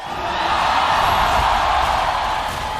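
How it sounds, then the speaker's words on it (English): A dense, steady roar of a large crowd cheering at an esports grand final fills the echoing Rizal Memorial Coliseum, loud and continuous throughout. "Listen to the crowd."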